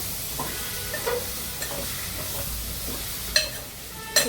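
Drumstick chicken curry sizzles steadily in a pan while a spoon stirs through it, with a few louder scrapes and clinks over the constant frying hiss.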